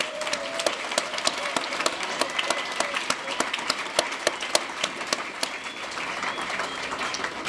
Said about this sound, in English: I want to give Zach a big round of applause